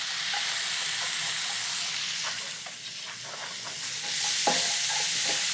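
Onions frying in rendered pancetta fat for a spinach dish, a loud, continuous sizzle with stirring scrapes that dips briefly in the middle before swelling again.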